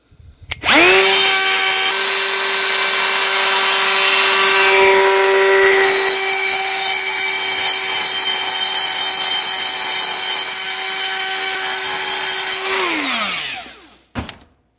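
Die grinder smoothing the intake port ramp on a 350 Vortec cylinder head: a loud, steady high-pitched whine held for about twelve seconds, spinning up at the start and winding down near the end, with no talk.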